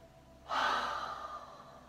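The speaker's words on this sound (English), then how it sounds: "have a big breath" A single deep inhalation during a yoga pose, a soft close breath that swells suddenly and then trails off slowly, heard alone in a quiet room.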